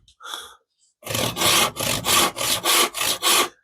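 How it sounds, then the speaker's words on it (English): A handsaw cuts through wood for a birdhouse, eight quick, even rasping strokes close up after a short faint sound, with no talking. "I always try and do the sawing right really quickly."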